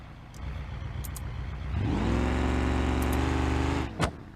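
A car's engine in BeamNG.Drive, too weak to break the tires loose for a burnout, idles with light blips, then surges into a loud sustained rev for about two seconds before cutting off abruptly with a short pop.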